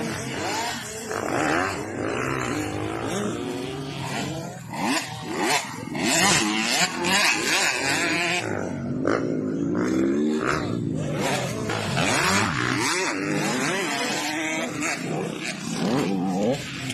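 Loud motocross motorcycles race and rev continuously in a 2024 motocross race series, engines whining up and down in pitch, with several bikes overlapping.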